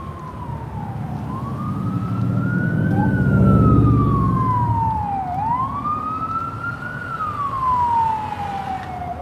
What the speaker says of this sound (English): They even have the ambulance coming